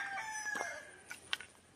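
Chickens and a rooster on a farm in Angayan Sur, Balungao, Pangasinan, with a thin sustained crowing call and a few sharp clucks and squawks over a quiet, airy background.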